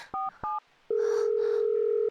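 Telephone keypad dialing: two short touch-tone beeps, then a steady electronic tone that holds to the end, clean and close with no talk.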